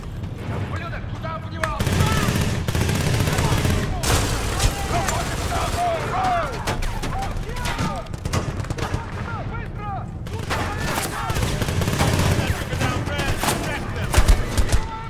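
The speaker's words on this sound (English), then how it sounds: "Suppression fire!" Sustained gunfire and bursts of automatic fire in the shooter game Battlefield Bad Company 2, loud and dense across the battle with heavy low rumble, while players shout and talk over it.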